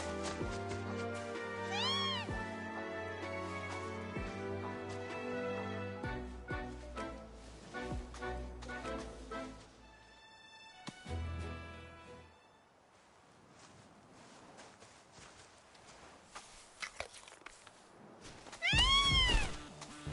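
A cat in Final Fantasy VII Rebirth gives several clear meows spread across a stretch of game music, with short pauses between them and a louder cry near the end.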